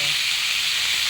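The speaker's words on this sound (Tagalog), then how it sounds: "Nagatalsik ang mantika ng ating perito." Hot oil spits and sizzles around fresh fish frying in a pan, a steady close hiss with fine crackling spatter throughout, with no voices over it.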